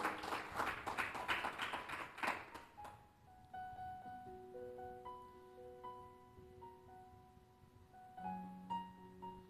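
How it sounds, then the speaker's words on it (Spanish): A church congregation claps in a brief burst of applause for a couple of seconds, then it fades into soft sustained keyboard notes played quietly. "Dale un aplauso al que vive."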